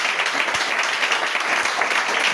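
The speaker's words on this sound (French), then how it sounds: "On acclame pour elle." A church congregation applauds during a Sunday service, a steady dense wash of clapping from many hands with no pauses, filling the room at an even level.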